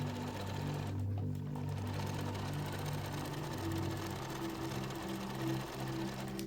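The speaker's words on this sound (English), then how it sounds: "you need a good needle or a little powerful sewing machine to stitch such a thick fabric" A sewing machine runs steadily while stitching thick, heavy-duty pant fabric, giving a close, continuous mechanical hum and rapid needle chatter with slight shifts in speed.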